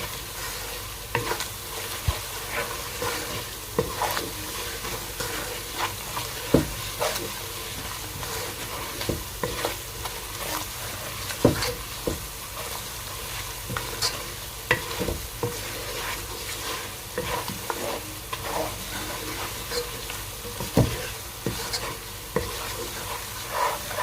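Mixed dal masala frying in a pan, dhaba style, while a spoon stirs it: a steady sizzle with frequent scraping, tapping stir strokes throughout, close and with no talking.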